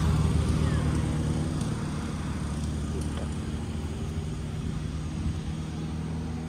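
Steady broadband rumble of vehicles passing on a forested mountain road near Atimonan, Quezon, continuous and fairly loud, with no speech.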